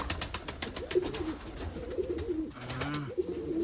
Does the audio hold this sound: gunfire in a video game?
no